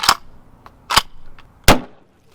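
Salt-loaded gun shots fired at a crashed sheriff's police interceptor: three sharp, loud reports spaced apart, each a brief crack with a short decaying tail, with no talk.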